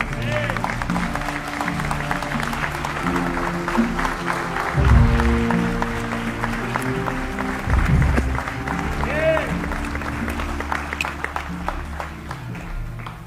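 A church congregation claps during a Spanish-language sermon, producing a sustained ripple of applause mixed with crowd voices and shouts, fairly loud and full throughout.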